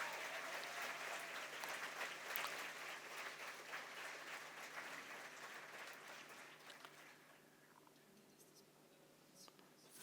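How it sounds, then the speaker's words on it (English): Applause from a symposium audience fills the hall, a dense, steady clapping that carries on for most of the stretch before fading into quiet room tone near the end. "ask for a big round of applause for Eva Maria Holzleitner"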